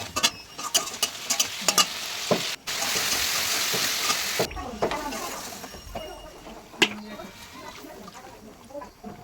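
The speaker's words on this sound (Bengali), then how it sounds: "এইভাবে মশলা এখন কষাচ্ছি" Spices fry in a pan while a spoon stirs them, giving a loud, crackling sizzle with scraping strokes. The sizzle surges in the middle, and a voice can be heard in the background.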